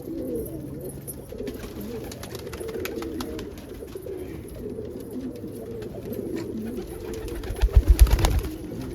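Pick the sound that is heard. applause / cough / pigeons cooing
pigeons cooing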